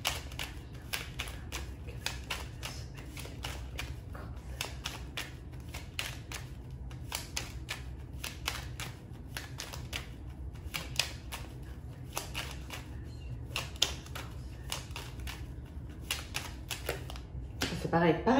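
Tarot cards shuffled steadily for a reading, a soft close patter of riffles and slides running continuously over a low background hum.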